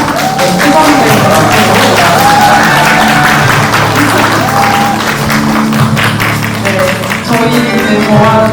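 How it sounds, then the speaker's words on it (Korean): Loud, close applause with some cheering from an audience at a Seoul International Women's Film Festival press conference, welcoming an actress as honorary ambassador; dense clapping runs throughout while a voice speaks over it. "네, 뜨거운 박수로 맞아주시면 감사하겠습니다."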